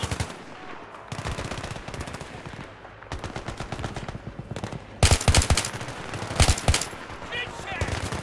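Bursts of automatic gunfire in the video game Battlefield 3, rapid volleys and machine-gun rattles at varying distance, louder near the end, with a voice speaking briefly among them.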